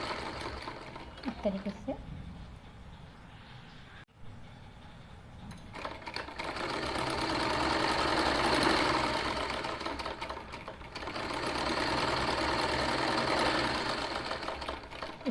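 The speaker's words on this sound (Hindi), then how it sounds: "अब मैं दोनों साइड इस पर सिलाई लगा देती हूँ।" A sewing machine stitches the side seams of a kurti in two long steady runs after a brief pause, the motor whirring loudly and evenly up close, with someone speaking briefly near the start.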